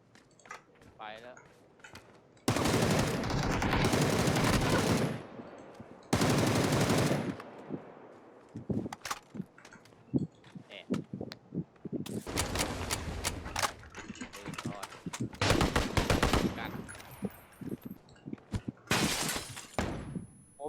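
Sustained bursts of M249 machine gun fire in a video game rattle loud and close in several long volleys, separated by brief lulls with scattered shots and clatter.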